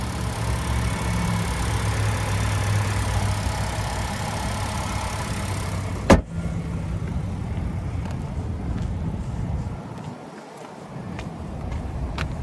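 A 2022 Nissan Altima 2.5 SL's naturally aspirated 2.5-liter four-cylinder idles steadily and close by, with one sharp click partway through and a slight dip in the hum afterward.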